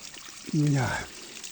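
Spring water poured into an empty plastic bottle, a brief gurgling fill sound with a rising tone, close and fairly loud, with faint background before and after.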